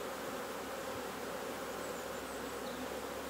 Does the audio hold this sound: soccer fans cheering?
no